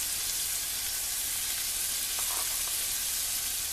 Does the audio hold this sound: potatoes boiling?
yes